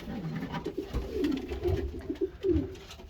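Breeding pigeons coo in low, throaty bursts, several calls overlapping at close range over a faint background hum.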